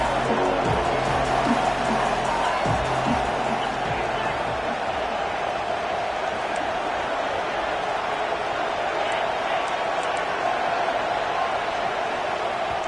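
Stadium crowd at a football game, a steady loud roar of many voices filling the whole stretch, with a commentator's voice heard briefly over it at the start.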